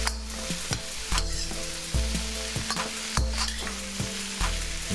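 Vegetables stir-frying in olive oil crackle in a loud, continuous sizzle, with a rhythmic scrape and clatter of a utensil stirring the pan roughly once a second, no voices.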